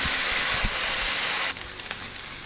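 Onions sizzling and frying in a pan for a zucchini curry, a steady close hiss that drops noticeably quieter partway through, with a few faint clinks.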